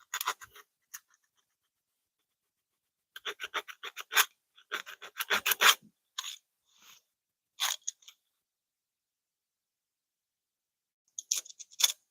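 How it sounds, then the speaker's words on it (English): Fine sandpaper rubs across wood in bushcraft work, giving dry, scratchy rasping strokes in short irregular bursts separated by long silent pauses. The strokes are close and fairly quiet, with no talking. "This is taking time with this thinner sandpaper."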